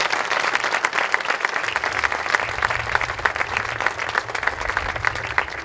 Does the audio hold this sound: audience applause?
yes